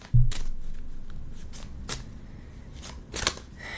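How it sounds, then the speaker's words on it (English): Playing cards are quickly shuffled by hand during a ritual, producing a series of soft riffling bursts and papery flicks close by, with a brief sharper flutter near the end. "So I'll just do a very quick shuffle."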